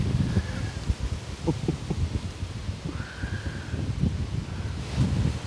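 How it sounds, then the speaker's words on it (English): Steady wind of about 14 miles an hour buffets the microphone about 25 feet up, with low rumbling gusts, constant throughout and fairly loud, with no talking. "the winds are about 14 miles an hour. It's a little breezy up here."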